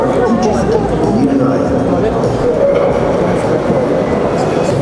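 Rumbling model train noise with rhythmic rail clatter and faint squeals, running steadily at moderate loudness, with indistinct chatter in the background, at a railway modelling exhibition.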